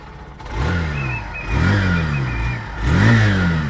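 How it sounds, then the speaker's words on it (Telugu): A Honda Shine 100 DX motorcycle's exhaust is revved three times, each blip of the small single-cylinder engine rising sharply then falling back to idle, close and loud. "దీనికి ఎగ్జాస్ట్ నోట్ అయితే ఒకసారి విందామండి."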